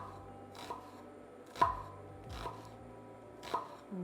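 A knife cuts an onion into small cubes on a board, giving about five sharp, unevenly spaced chops in a quiet kitchen with no talk.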